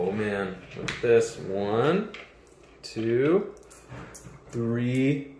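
Coins clink and jangle in short metallic bursts during a children's sock-ball throwing game, heard under a voice vocalizing across most of the clip.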